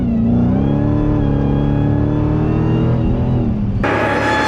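The supercharged V8 of a 2020 Dodge Challenger Hellcat Redeye, rated at 797 hp, revs hard and loud from inside the car, its pitch climbing steadily through one long pull before shifting abruptly to a higher, harsher roar.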